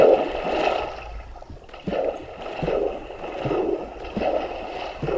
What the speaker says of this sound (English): Scary water cave.